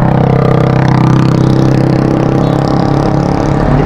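Car engines drone in slow road traffic near San Joaquin, with large vehicles close behind, a loud, steady low engine hum with a sustained tone running under it, heard close up without speech.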